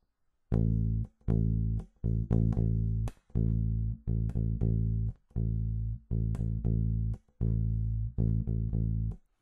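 A low bass guitar tone plays a steady dotted-quarter and eighth-note rhythm, alternating sustained hits with quick double notes, alone and clear.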